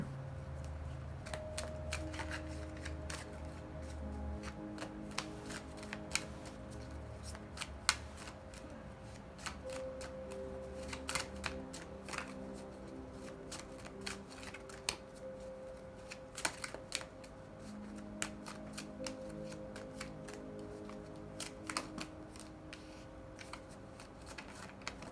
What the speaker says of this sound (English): So many cards falling everywhere.